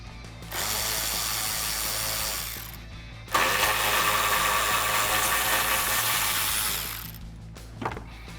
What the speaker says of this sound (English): I'm gonna use a 7mm socket to loosen up this band clamp on the airbox itself, and then a 13mm socket